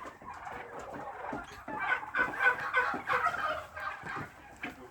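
A flock of Australorp chickens, including a black rooster, clucking and gobbling together nearby, a busy overlapping chorus of poultry calls that swells in the middle.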